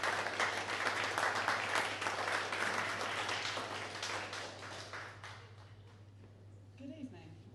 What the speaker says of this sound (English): please give Louise a big round of applause.